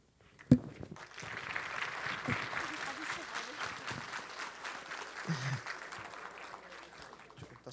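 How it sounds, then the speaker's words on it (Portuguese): Audience at a lecture clapping after a talk, a sharp thump at the start followed by scattered, fairly soft applause that rises and falls over several seconds, with voices murmuring underneath. "Eu acho que eles estão aplaudindo"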